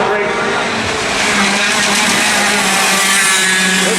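Racing karts at the Rock Island Grand Prix, a loud continuous engine drone close by with a commentator speaking over it.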